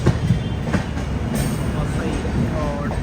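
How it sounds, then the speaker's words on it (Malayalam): Humsafar Express rumbling into Vasai Road railway station, a steady loud roar of rolling wheels and carriages with faint clatter, heard close from the platform with a voice partly underneath. "വസൈ റോഡ് റെയിൽവേ സ്റ്റേഷനിലേക്ക് ഇതാ നമ്മുടെ ട്രെയിൻ എത്തിക്കൊണ്ടിരിക്കുകയാണ്."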